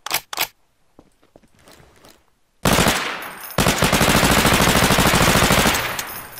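A silenced MR496 pistol in Garry's Mod fires a few sharp, separate shots, followed by a long, loud burst of rapid, dense gunfire.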